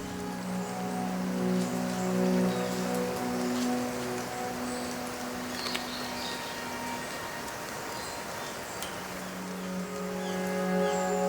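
Steady rain falls outdoors in Japan as an even, moderate hiss of drops on surfaces, continuous and unbroken, with a faint hum in the background.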